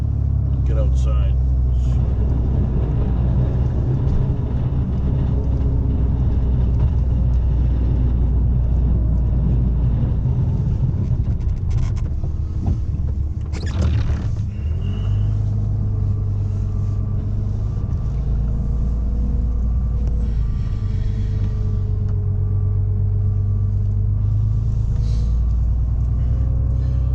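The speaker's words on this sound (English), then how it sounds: "So I'm in my 2013 Ram 3500 diesel, and we're running an xv2 Fisher plow." A 2013 Ram 3500 diesel pickup pushes snow with a Fisher XV2 plow during a storm. A heavy, continuous low engine rumble fills the cab, with a few brief scraping and clunking surges along the way.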